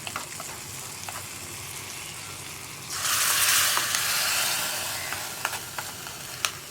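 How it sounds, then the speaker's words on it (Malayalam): Fried onion and chilli tempering poured into a Kerala green gram and raw plantain curry, giving a sudden loud hiss and sizzle midway that holds for a couple of seconds, then settles into lighter frying crackle and a few stirring clicks. "അപ്പോൾ നമ്മുടെ വറവ് നമുക്ക് കറിയിലേക്ക് ചേർത്ത് കൊടുക്കാം."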